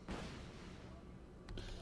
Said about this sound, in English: With his little mortar cannon.